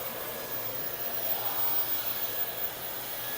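A heavy handheld cordless vacuum cleaner with a trigger runs at a steady whine, a continuous close and fairly loud airy hiss with a faint tonal hum and no talk over it.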